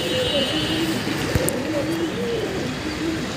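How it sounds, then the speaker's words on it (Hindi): Pigeons on a rooftop cooing in low, repeated warbling calls over a steady outdoor hum, with someone talking throughout. "सिकरी के जैसे कबूतर उड़े आके"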